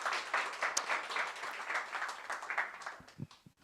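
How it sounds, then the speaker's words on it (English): An audience applauds the speakers with steady, moderately faint clapping that tapers toward the end. "But a round of applause, please, for Gary Bolles and Hal."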